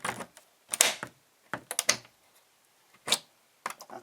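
A square key turns in a meter cupboard lock, giving sharp, close metallic clicks and rattles in irregular clusters with short silences between.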